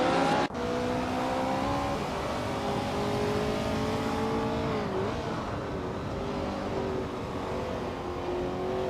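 Race cars in a video game roar steadily with sustained engine drones that shift pitch as the cars accelerate and change gear, a continuous loud racing soundscape with no talk.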